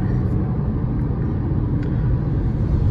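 Steady low engine rumble and road noise inside a 2021 Fiat Argo Drive with a 1.0 engine cruising in fifth gear on a highway, a constant close drone with no talk.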